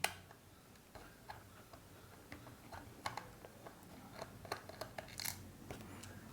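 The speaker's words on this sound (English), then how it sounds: "Then we're going to screw this screw as well." A small screw driven into a PlayStation Portal during a teardown, heard up close as faint, irregular ticking clicks from the screwdriver, quiet and with no talking.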